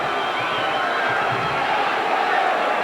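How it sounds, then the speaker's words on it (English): Standing-room-only crowd in a packed high school basketball gym, a dense continuous roar of many voices murmuring and cheering with no distinct words. "A standing room only crowd here at the Harrison Warriors."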